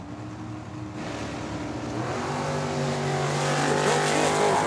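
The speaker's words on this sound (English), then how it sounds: "Joe Kidd Jr. in the Nova. 1067 is his dial-in. John Amstutz. 1241 in the Camaro on the right-hand side." Drag racing cars, a Chevrolet Nova and a Camaro, launch and race down the strip at Tucson Dragway, engine roar building steadily louder over several seconds with rising whine and tire noise.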